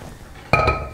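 A large frying pan is set down on a stovetop, one sudden clattering metallic knock halfway through followed by a ringing, clinking tail, close and fairly loud with no one speaking.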